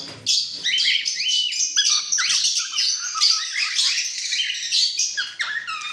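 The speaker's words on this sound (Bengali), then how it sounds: "এখানে ককটেল আছে ব্ল্যাক ককটেল" Cockatiels, including black ones, at a bird market keep up loud, shrill, overlapping squawks and chirps close by, with no pause.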